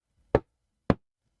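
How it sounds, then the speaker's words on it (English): Two distinct knocks on a door, a sound effect for a horror story, spaced about half a second apart, sharp and clean against silence. "He knocked on the door,"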